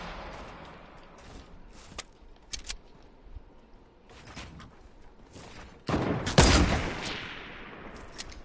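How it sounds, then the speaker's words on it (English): Fortnite sniper gunfire from a hill: sharp, scattered shots crack out at intervals, faint and distant at first, then a loud close burst with a booming impact near the end. "Snipers from the hill."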